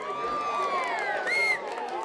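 A crowd at a lively bar party cheers and whoops in a short, close burst. High shouts and hollers rise over the general din.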